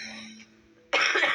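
A person coughs hard after talking about needing water, a loud burst of rough, close coughing that starts abruptly and fills the end of the moment after a quieter stretch.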